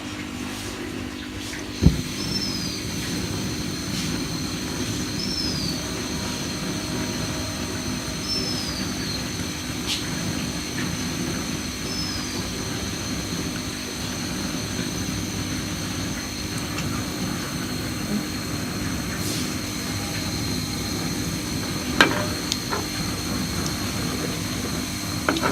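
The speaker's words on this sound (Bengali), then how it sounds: "এরপর আমি একটি একটি করে ভেজে নিব।" Green banana chops coated in gram flour batter fry in hot oil, giving a steady, continuous sizzle and low rumbling hiss that holds evenly throughout, with a couple of faint clicks and no voice.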